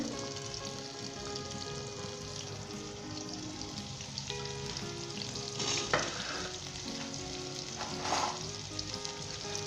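Onions and garlic sizzle steadily in a hot pan, with a constant crackling hiss and a couple of brief stirring scrapes.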